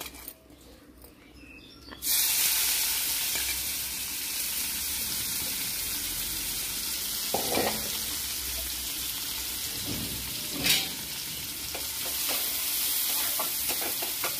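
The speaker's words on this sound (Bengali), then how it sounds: "পেঁয়াজটা একটু নেড়ে চেড়ে নিতে হবে" Long-sliced onions sizzle steadily in hot oil in a pan, with a few louder scraping bursts as they are stirred; continuous close frying with no voice.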